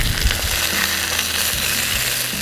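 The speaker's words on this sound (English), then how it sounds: "You move them around, we don't want to burn anything, especially that garlic." Bison and garlic hiss and crackle loudly in a hot stir-fry pan, a dense, constant sizzle with soft scraping as the pieces are moved around, close to the microphone.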